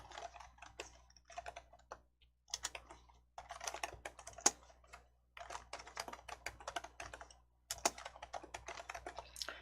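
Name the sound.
typing text on a computer keyboard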